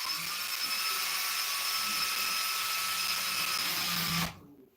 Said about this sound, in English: Now you can use a drill bit.